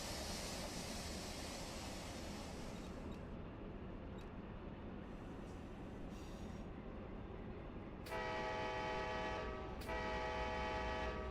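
Amtrak Empire Corridor passenger train rumbling along in a train simulator, loud continuous running noise, then two blasts of a multi-tone horn near the end, the second shorter.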